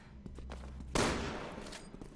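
Gunfire in Resident Evil 6 co-op play as Leon and Helena: one loud, sharp shot lands about a second in and rings out into a decaying echo, with a low game rumble and faint softer sounds before it.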